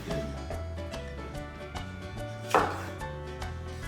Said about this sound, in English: Now the pepper I am going to go ahead and slice in